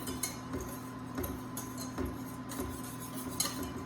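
A whisk clinks and scrapes steadily against a bowl while cream cheese pastry cream is beaten, a quiet, continuous rhythmic metallic stirring with no talk.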